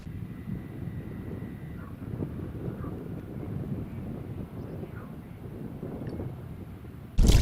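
A small fishing boat moves across open water to another spot on a windy morning, giving a steady low rumble and wind buffeting throughout, with a sudden loud burst at the very end.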